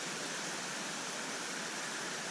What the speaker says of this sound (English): There's our waterfall up there, streaming from the top of those cliffs.